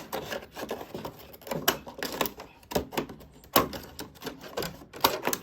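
Rough rasping and scraping bursts as a plastic drain basin for a house plant is cut down by hand for a bokashi compost bucket, irregular strokes close by with no talk.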